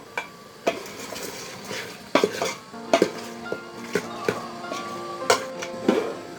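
Chicken masala for chicken saaru is stirred in a metal pan, with irregular clanks and scrapes of a spoon against the pan over a faint, low sizzle of frying.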